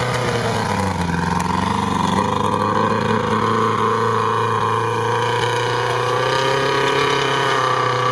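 An off-road car's engine roars and revs as it accelerates through sand, the pitch sliding upward and holding loud and close for several seconds.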